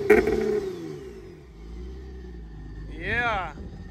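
Infiniti G37 car driving with a low engine hum under people talking, then a brief rising rev near the end.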